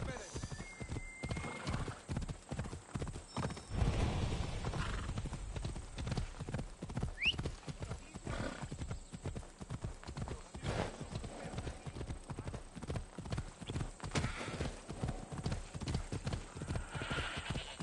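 A horse ridden on autopilot in the video game Assassin's Creed Odyssey clip-clops in a fast, steady gallop rhythm throughout, close and prominent, with a brief whinny and some game ambience around it.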